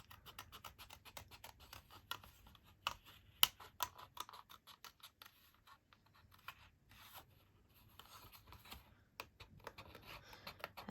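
Scissors snip out a paper card piece for handmade card-making: a quiet run of quick, crisp clicks and cuts in uneven bursts with short pauses, close and soft.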